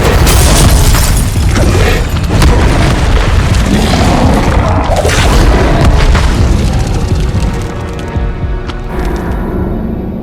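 A loud fiery burst from the Incendio fire spell in Hogwarts Legacy, a booming explosion with crackling debris that fills the scene and slowly fades toward the end.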